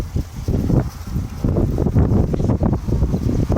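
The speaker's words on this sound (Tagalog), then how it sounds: "Presko kasi dito, mahangin dito." Steady outdoor wind rushing and buffeting a microphone, a continuous low roar with gusty swells and no talking.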